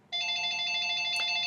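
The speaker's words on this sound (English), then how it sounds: "I apologize for the phone in the background" A telephone ringing in the background of a lecture, a steady electronic ring tone that starts abruptly and holds continuously, fairly faint, with no one speaking over it.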